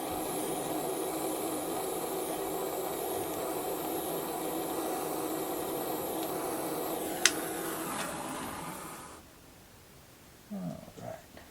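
A soldering torch burns steadily over a seam in a small book nook build, a constant close roaring hiss with one sharp click, then cutting off and leaving faint scattered clatter.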